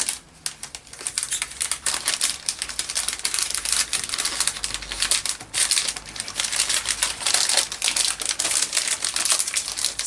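A paper bag is handled and crinkled close up in a continuous dry rustling and crackling, with scattered sharper crackles and no speech, during paper crafting of mini postcards.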